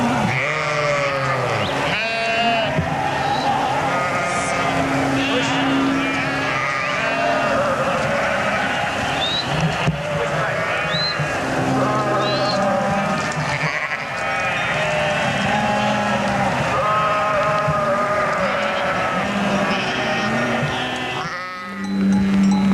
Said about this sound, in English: sheep are easily managed by a single herder